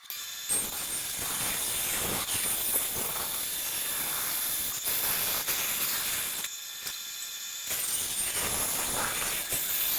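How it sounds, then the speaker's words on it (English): Steam hisses steadily around a wooden Purple Heart bow being steamed for bending, a continuous loud close-up rush with brief dips. "We got our Purple Heart bow steaming."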